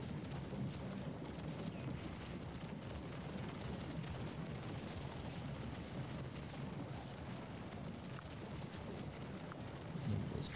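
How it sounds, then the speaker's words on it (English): Massed musket volleys from several regiments in a Gettysburg Civil War battle game, a continuous dense rumble of distant overlapping gunfire and booms that holds steady throughout with no talk. "we now have 3 regiments firing into the 6th for the moment"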